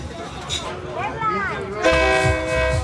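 A train horn sounds over busy crowd chatter as a train passes through a local market in northern Thailand, with rumbling rail noise and a second long tonal blast near the end.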